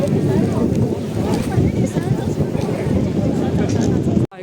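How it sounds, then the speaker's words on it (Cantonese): A crowded boat pulls away for a harbour festival procession, a continuous loud rumble of engine and water with heavy wind buffeting the microphone, and people's voices mixed in throughout. "我架船開啦"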